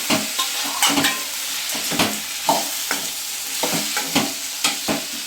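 Onion and tomato sautéing in a pan for chutney, a steady oily sizzle broken by repeated scraping strokes of a spoon stirring at a regular, unhurried pace, close by with no voices.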